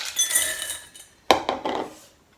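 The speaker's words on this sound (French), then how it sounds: "Je vais mettre 250 g de pistoles de chocolat au lait." Milk chocolate pistoles tumble into a mixing bowl in two quick clattering pours, bright and close, with no voices.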